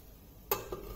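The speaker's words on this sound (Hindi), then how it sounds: "इसका ढक्कन लगाएंगे" A metal lid lands on a pressure cooker full of sautéed mixed vegetables, one sharp clank followed by a softer second knock, close and alone in a quiet kitchen.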